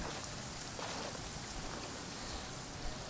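Rain falling in the video game Genshin Impact, a dense, even hiss of steady downpour, faint and continuous with no voices.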